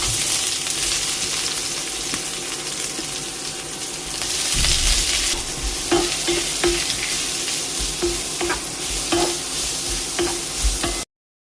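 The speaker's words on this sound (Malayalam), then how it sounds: "ഇനി അതിലേക്ക് ആ എണ്ണയിലേക്ക് തന്നെ ഈ സവാള ചേർക്കാം." Onions frying in oil in a pan make a loud, steady sizzle, with stirring scrapes and bursts of crackle throughout.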